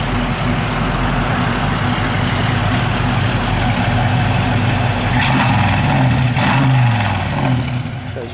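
1964 Chevrolet Nova engine idling steadily at close range, a low, even rumble that holds for several seconds with faint background noise and a brief rise near the end.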